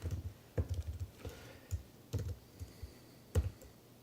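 Code being typed on a computer keyboard in irregular quick bursts of soft clicks and key taps, close but quiet, with no talking.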